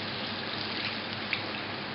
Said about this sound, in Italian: Ci mettiamo acqua